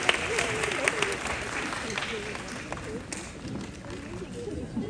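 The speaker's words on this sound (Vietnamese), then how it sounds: "Một tràng pháo tay dành cho những người bạn của anh Đàm Vĩnh Hưng đã xuất hiện trên sân khấu ạ" Audience applause at a Vietnamese showbiz event for Đàm Vĩnh Hưng, greeting his friends who have appeared on stage, a dense steady wash of clapping with crowd noise and talk mixed in throughout.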